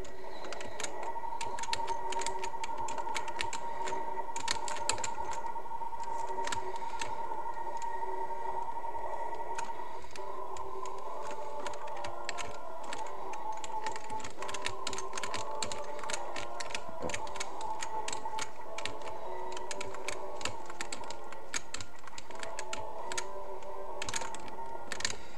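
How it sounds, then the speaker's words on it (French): Rapid, irregular computer keyboard typing clatters close by for the whole stretch while Metroid Zero Mission game music and effects play steadily underneath, with no talking. "Vous allez beaucoup entendre le bruit du clavier"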